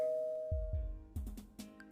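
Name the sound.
doorbell ringing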